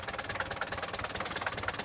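A Mercedes-Benz 240D diesel engine idles after years of sitting, giving a steady, rhythmic clatter with fast repeating knocks, close and continuous with no talking.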